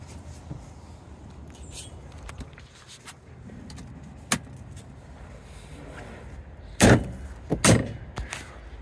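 Doors on a Segway Villain SX10 side-by-side swing shut with two solid, close thuds in quick succession, heard over a low outdoor background hum without talk.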